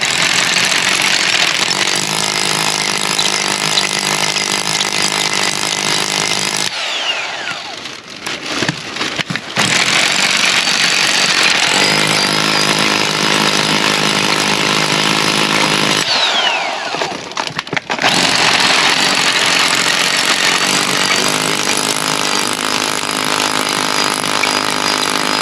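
An old Hilti hammer drill bores into concrete for railing installation, loud and close, running in long sustained bursts with two brief stops between holes.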